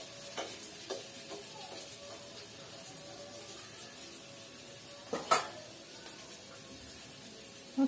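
Ginger paste and spices fry quietly in oil, a soft sustained sizzle with occasional spoon knocks and a couple of brief louder clatters.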